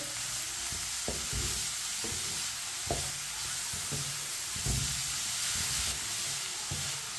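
Chinese kebab mixture cooks over medium heat in a pan with a continuous low sizzle, punctuated by irregular knocks and scrapes of a spoon stirring it.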